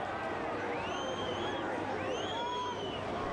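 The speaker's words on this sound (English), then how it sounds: "the crowd in the main stand not appreciating that call quite so much" A football crowd in the main stand at a Perth Glory versus Newcastle Jets match reacting to an offside call, a faint distant murmur and whistles beneath a commentator's voice.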